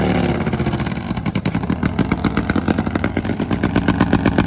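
A Pro Fuel nitro Harley-Davidson drag bike engine at an outlaw drag bike race rumbles loud and close in rapid, pulsing firing bursts that swell as it revs.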